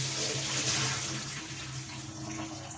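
Water runs steadily from a tap as soaked chickpeas are drained and rinsed in a kitchen, a continuous close rushing and splashing that holds at an even level throughout.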